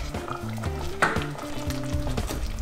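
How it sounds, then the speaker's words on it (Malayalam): A spoon stirs semolina (rava) into boiling water in a pan with soft scraping and bubbling for an evening snack, close and continuous, under a faint tonal hum. "ഇങ്ങനെ റവ ഇട്ട് കൊടുത്ത് നമുക്ക് നല്ലതായിട്ട് കട്ടകളൊന്നും ഇല്ലാതെ ഒന്ന് ഇളക്കി കൊടുക്കണം."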